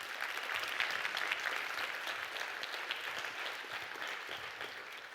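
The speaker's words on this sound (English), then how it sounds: "Big round of applause for Bruce." An audience applauds after a conference talk on incident response, a steady wash of many hands clapping at moderate distance, even and continuous without talk over it.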